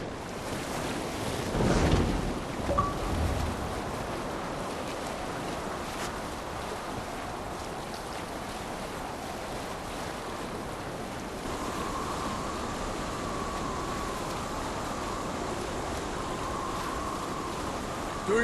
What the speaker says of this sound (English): Do not lose your course through the storm.